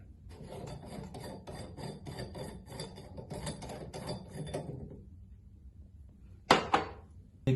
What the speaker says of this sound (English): Grab your channel locks and go ahead and remove this bushing.